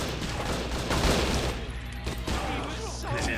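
Sustained bursts of gunfire from a gang war in the video game Judge Dredd vs Death, dense and continuous with overlapping shots, while a player talks over the clatter.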